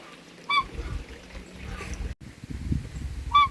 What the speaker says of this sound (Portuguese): Esse aqui, gente, ó, é o ganso africano.